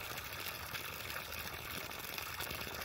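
Water from a DIY 24 V solar well pump pours steadily into a gallon container, a constant faint splashing gush that continues without a break.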